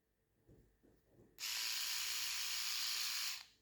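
A Philips OneBlade Intimate electric trimmer switches on and runs with a steady, close buzz for about two seconds, then cuts off. A few soft handling noises come before it starts.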